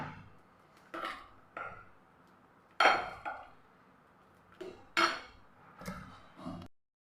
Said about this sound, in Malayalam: നല്ല ഫ്രീസ് ചെയ്തെടുത്ത പാലാണെങ്കിൽ നല്ല പോലെ ഒന്ന് ഉടച്ചു കൊടുത്താൽ മതി